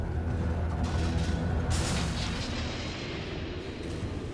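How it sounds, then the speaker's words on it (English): Edict explosions demolish an enemy base in a professional Dota 2 match on patch 7.30, a dense, sustained rumble of blasts and booms holding steady at high volume with no voices over it. "Those Edict explosions will make it quick work."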